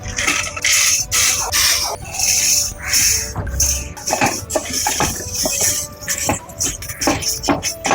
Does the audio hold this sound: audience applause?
no